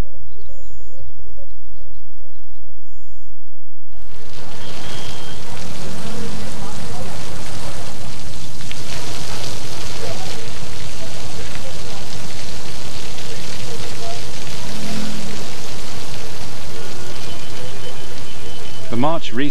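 Heavy monsoon rain falls in a dense, steady roar of drops on surfaces, starting abruptly after a few seconds of quieter ambience and continuing loud and unbroken to the end.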